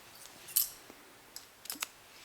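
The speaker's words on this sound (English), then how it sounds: "then I'll cut this yarn" Scissors snip through crochet yarn at close range, a sharp metallic cut followed by a few quieter clicks of the blades in an otherwise quiet room.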